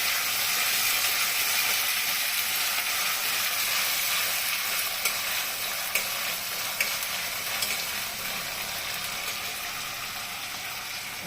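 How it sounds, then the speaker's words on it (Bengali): Spice pastes of cumin, ginger, coriander and chili stirred into frying onions for egg curry, a steady broadband sizzle with scraping stir clicks running throughout, close and continuous with no talk. "এখন আমি এই যে জিরা বাটা, আদা বাটা, ধনে বাটা, লঙ্কা বাটা সব দিয়ে দিচ্ছি এখানে, দিয়ে একটু নাড়াচাড়া করবো"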